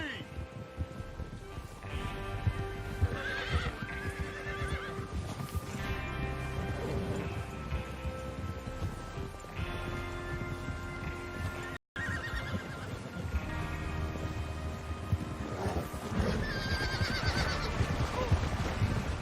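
Horses whinny and neigh repeatedly over steady galloping hoofbeats in Red Dead Redemption 2, with game music and voices running underneath the whole time.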